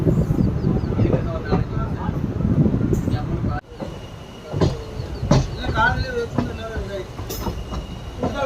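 Passenger train running between Tiruchirappalli and Erode, with a steady low rumble of wheels and carriage noise, a brief quieter dip partway, and occasional higher clanks and squeals, with people talking and calling out nearby throughout.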